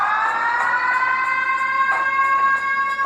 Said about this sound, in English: It's a synthesizer.